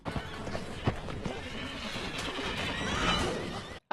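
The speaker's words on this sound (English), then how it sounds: "that's a big ass horse" A horse neighs and its hooves clatter in a scene from The Lord of the Rings: The Two Towers, under dense film sound and people talking over it, one sharp whinny standing out midway.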